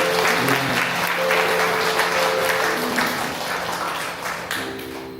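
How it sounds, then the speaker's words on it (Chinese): A congregation at a Presbyterian Sunday worship service in Linkou applauds with dense, sustained clapping that fills the hall and tapers slightly toward the end. "掌声，我们鼓励他们"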